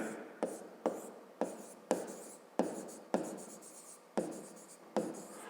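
A pen writes on paper while a math exercise on a triangle's perimeter is worked out, with about nine close, rhythmic scratchy strokes each starting sharply and trailing off, with no voices.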